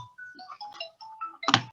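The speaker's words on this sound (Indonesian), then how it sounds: "siapa lagi nih telepon" A phone rings for an incoming call with a quick melodic ringtone of stepped electronic notes, close and clear. A brief thump lands near the end.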